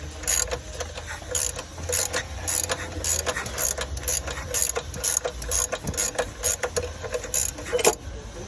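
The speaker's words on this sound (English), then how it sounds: "you're gonna be cranking the ratchet down to your left, just like this" A hand ratchet cranks in repeated bursts of sharp clicking to remove a power steering pump pulley on a Chevy Silverado-type truck, close and loud with a regular rhythm.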